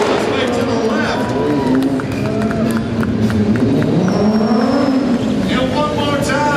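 A motorcycle engine in an indoor stunt show revs and throttles up in rising and falling waves throughout, with a crowd and an announcer talking over it.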